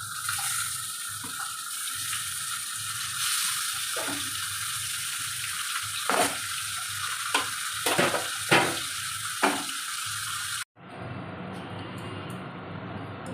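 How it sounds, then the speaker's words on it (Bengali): Fish pieces, head included, fry in hot oil with a steady sizzle and occasional crackles and spatters, then the sound cuts to a different quieter background near the end. "আমি এরকম মাছটা ভেজে নিয়েছি"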